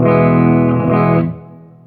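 A clean electric guitar chord rings out with a touch of reverb, sustaining briefly before fading away.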